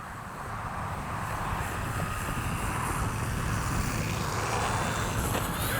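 An H-King Flybeam 2 RC plane flies in the dusk sky, its motor and propeller making a steady, even drone that holds from start to finish with no voices.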